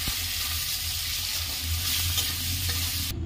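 Halved green chillies and long-cut tomato pieces with salt and turmeric fry in a pan, giving a steady close sizzle with stirring sounds throughout and a brief clink near the end.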